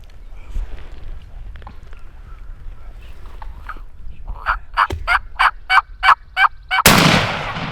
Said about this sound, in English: That's a gobbler.